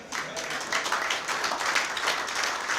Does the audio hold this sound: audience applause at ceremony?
yes